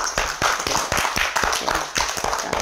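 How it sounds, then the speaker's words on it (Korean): An audience claps in a health seminar hall at a healing centre, a loud run of sharp, fairly even claps in steady rhythm lasting a few seconds, close and without talk. "박수 한번"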